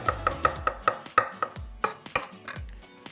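A knife chopping three garlic cloves on a cutting board, about a dozen sharp, evenly spaced chops in quick rhythm with low board thumps, close and clear.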